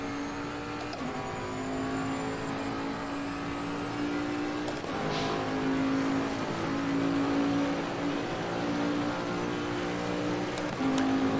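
A car engine revving steadily on the Oulton Park circuit, a continuous loud drone that rises and dips in pitch with several gear changes.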